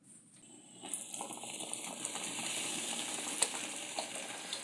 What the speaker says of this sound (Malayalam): അപ്പം വിനാഗിരിക്കകത്ത് കിടന്ന് ഒന്ന് തിളച്ച് വേവട്ടെ.